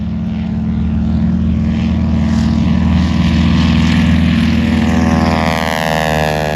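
A loud Harvard IIa propeller warbird engine roars steadily at an air show, the drone rising and shifting in pitch as the plane passes close by.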